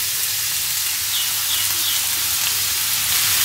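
Onions and five-spice frying in oil for a watermelon-rind stir-fry give a steady, close, broad sizzle with no gaps, unbroken and alone.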